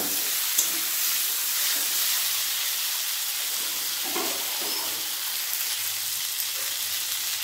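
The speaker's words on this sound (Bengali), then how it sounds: "জিরেটা দিয়ে ভালোভাবে আরেকবার ভেজে নেব" Cumin powder fries in a hot pan with a steady, close sizzling hiss that holds evenly throughout, with a few faint stirring scrapes.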